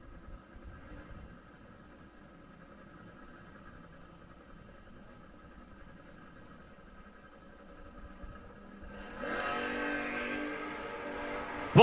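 Drag racing pickup truck and a door car at a bracket race, engines idling low and faint at first, then a louder surge of revving near the end as they launch.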